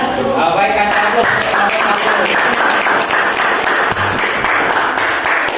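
A classroom audience applauds after a group presentation at a teacher-training session: dense, loud clapping from many hands, close and sustained without a break. Voices mix faintly into it.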